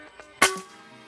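A single sharp shot from a PCP air rifle firing at a target, a sudden close crack with a short decaying tail after a quiet start.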